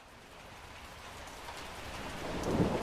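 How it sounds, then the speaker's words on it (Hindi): Rain pours steadily in a Hindi cartoon scene over farm crops, building gradually louder with a rumble of thunder swelling near the end; no voices. "ये क्या बारिश"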